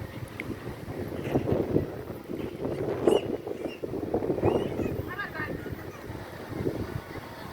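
Strong gusty wind of a Kalbaishakhi storm under dark clouds, a continuous rushing roar buffeting the microphone, swelling and easing in gusts, close and fairly loud.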